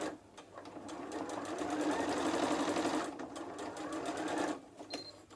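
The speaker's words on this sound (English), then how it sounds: "We're simply going to use a straight stitch and sew the full length across that binding strip." Sewing machine running a straight stitch along a fabric binding strip, a close, steady mechanical whirring hum that speeds up and slows down, with a few clicks at start and end.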